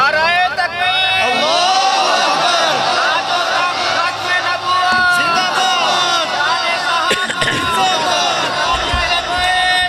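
Large crowd at an Urdu-Punjabi religious gathering roaring back in response to the Takbir slogan, a loud sustained mass of voices and cheering across the whole stretch.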